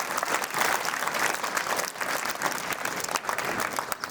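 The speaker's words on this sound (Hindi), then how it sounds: "एक बार के लोग सर के लिए भी इतनी जोरदार तालियां बजाकर आप इनका वेलकम और स्वागत करिए।" A school annual function audience claps loudly to welcome a teacher, a dense, steady wash of many hands from a large crowd with no talk, sustained for several seconds.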